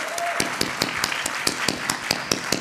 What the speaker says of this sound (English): Can we get a round of applause for my mom real quick